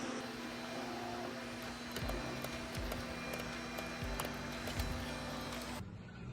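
An old 3D printer hums and whirs steadily at low volume, with faint periodic stepper-motor tones and a few soft clicks, running alone until it suddenly cuts off near the end.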